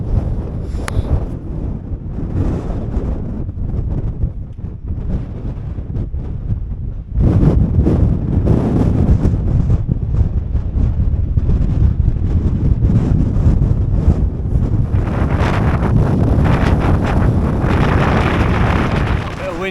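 Strong gusting wind buffets the microphone on an exposed Lake District fell near Knott Rigg. The roar is heavy and continuous and grows louder and harsher about a third of the way through.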